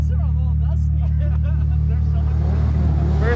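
A Can-Am Maverick R side-by-side runs a hot lap on a competition track, its engine a steady drone under someone talking, the drone growing rougher toward the end.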